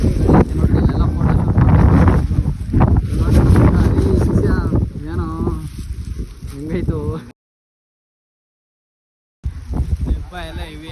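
Strong wind gusting outdoors near a temple site, a steady rumbling roar under someone talking, then a brief cutout before the blustery noise returns with more talk.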